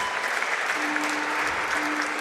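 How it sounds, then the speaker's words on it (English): Audience at a youth women's bouldering competition final applauds in a dense, even wash of clapping that holds steady throughout, heard from within the venue. "And they get a nice applause from the audience."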